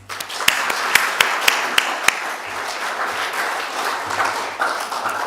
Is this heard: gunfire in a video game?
no